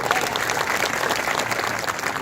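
Vigorous applause from a crowd welcomes a guest at a gathering, a dense continuous wash of clapping heard close and steady throughout.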